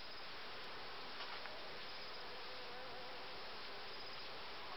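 Bees hum steadily at an open hive of local bees being readied for transport to a nomadic apiary in May, a dense continuous buzzing swarm sound, close and even throughout with no talking.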